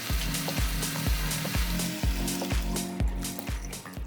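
Chili powder frying in oil in a wok for jjamppong, a steady close sizzle cut by rhythmic scraping strokes as it is stirred, roughly two strokes each second.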